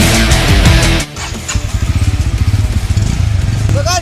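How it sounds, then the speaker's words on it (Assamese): A Bajaj Pulsar NS160 motorcycle engine on a night ride, heard close up with a steady, rapid pulsing throb after a brief louder rush of noise at the start. "নতুন বাইক লৈছে পালচাৰ এনএস কি পালচাৰ এনএস 160"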